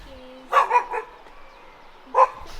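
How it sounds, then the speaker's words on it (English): Small dogs bark on a rainy day among the terraces of Madeira: a quick burst of three yapping barks, a pause, then one more sharp bark, fairly close, with no talk. "You're so scared from these little dogs."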